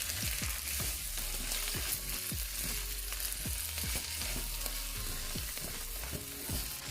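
Blended jerk seasoning and frozen scallions are stirred in a pan, with repeated rhythmic scraping strokes over a constant sizzle, close and fairly loud, with no talking.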